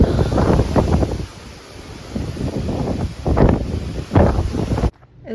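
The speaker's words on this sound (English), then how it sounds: "It's literally so windy outside." Strong outdoor wind buffets the microphone in loud, surging gusts that rise and fall over several seconds during a coastal wind storm, then cut off abruptly.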